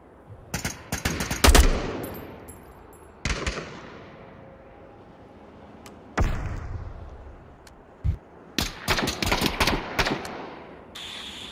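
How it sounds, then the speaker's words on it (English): Gunfire in the VR shooter Onward VR, fired through a wall at an enemy: sharp automatic bursts and single loud shots come in clusters, with quieter gaps between volleys and no talking. "I'm trying to shoot him through the wall."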